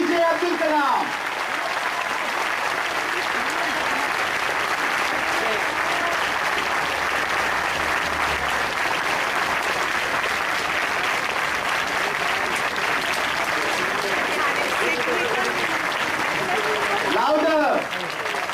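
Large audience at an engineering college function applauding Dr. A.P.J. Abdul Kalam with a long, loud, sustained roar of clapping, voices speaking and calling out beneath and over it.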